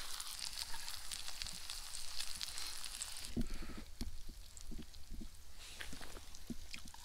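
Fresh rainbow trout frying in a hot pan at an ice-fishing camp, a steady close hissing sizzle with scattered crackles and pops, easing slightly partway through.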